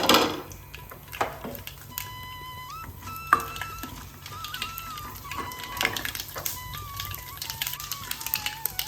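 A teaspoon of mustard seeds crackles in hot oil in a pan while a crushed-chilli rasam tempering is made. Sharp pops and sizzling crackles keep coming, close and fairly loud, over a faint steady tonal background, with no one talking.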